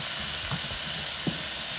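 Pepper steak with vegetables sizzling and frying in a pan, a steady close hiss with faint stirring bumps, no voices.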